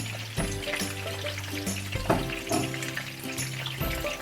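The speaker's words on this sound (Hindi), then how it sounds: "तो इसको भून लेंगे।" Ginger garlic paste and dry spices fry in oil for a fish curry, with a busy crackle and sizzle mixed with repeated clinks and scrapes of a spoon in the pan, close and fairly loud.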